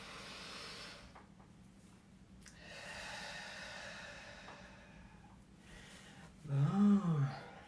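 During a guided breathing exercise, a long, soft exhale of breath sounds as a faint airy hiss, and a brief tonal voiced sound rises near the end.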